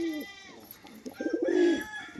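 A crested fancy pigeon coos nearby: two low, throaty coos a second apart, fairly close and moderately loud over quiet background noise.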